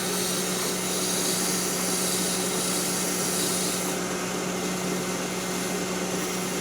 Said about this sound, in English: I'm going to just take a piece of sandpaper and clean up that edge. Give the whole thing a light sand real quick.